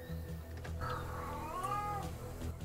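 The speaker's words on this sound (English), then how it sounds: "Okay, now my other cat is yelling." A pet cat yells in the room with a drawn-out, wavering meow, somewhat distant and faint over a low background hum of game sounds.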